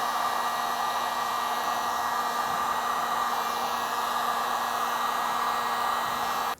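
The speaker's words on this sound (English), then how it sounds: "Now you don't want to stay too long using a heat gun" Heat gun blowing on the plastic tailgate handle of a Nissan Frontier pickup, a loud, steady airy roar with a constant hum that runs unbroken for several seconds, then cuts off abruptly at the end.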